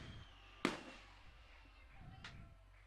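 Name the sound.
fireworks show at a baseball stadium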